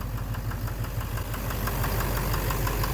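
A Duramax LMM diesel engine idles with a persistent, rapid rhythmic knock running through a steady mechanical drone, heard up close and without any talking.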